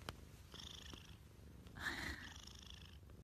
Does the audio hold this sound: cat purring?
yes